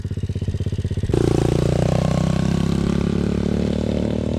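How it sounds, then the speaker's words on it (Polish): A small Chinese children's cross motorcycle engine idles with a fast, steady putter, then revs up sharply and holds a loud, buzzing drone close by. "Motocykl jest testowany."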